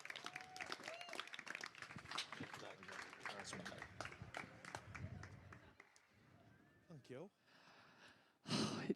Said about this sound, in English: So just another round of applause for the organisers, specifically Emma.